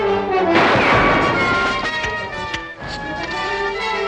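Pistol gunshots in a 1960s TV adventure drama, a loud crack followed by a ringing, echoing burst and further sharp impacts, with no talking.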